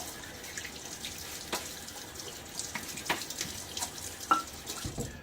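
Water runs from a tap into a sink during a wet shave with a Gillette Nacet blade and boar brush, a soft continuous trickle with small splashes and drips, fairly quiet and close, with no talking.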